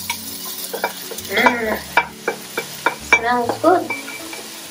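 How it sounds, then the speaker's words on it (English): Onions fry gently in oil over medium heat while a utensil scrapes and knocks against the pan in irregular strokes. The cooking is close and clear, and a voice speaks briefly over it. "we've got enough oil in there at the moment for us to just slowly cook these onions"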